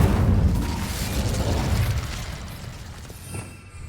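A burst of flame from the Incendio fire spell in Hogwarts Legacy, a loud whooshing blast that swells at once and then fades out over a few seconds.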